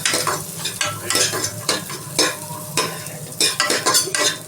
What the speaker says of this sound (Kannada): ಫಸ್ಟ್ ಇದು ಎಣ್ಣೆಲೆಲ್ಲ ಫ್ರೈ ಮಾಡಬೇಕು, ಕೆಂಪಗಾಗಬೇಕು.